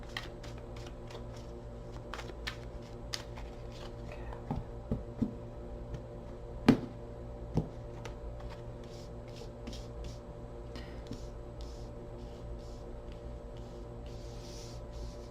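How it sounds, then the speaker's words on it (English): A deck of tarot cards is shuffled quietly, giving soft riffling flutters and a few sharper clicks over a steady low hum, with no talking. "Two more shuffles."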